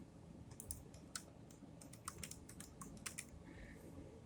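Fingers tap on a computer keyboard while typing a search into a search bar, a quick irregular run of soft clicks and keystrokes, close but quiet over a faint steady background hum.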